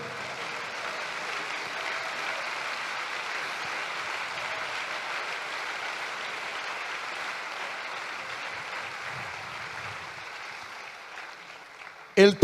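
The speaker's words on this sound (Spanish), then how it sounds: "Aplauda a Jesucristo." Church congregation applause during a sermon, a steady wash of clapping held at a constant level and fading near the end before a brief louder sound.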